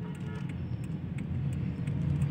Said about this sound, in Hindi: बहुत ज़्यादा ट्रैफिक हो गया आगे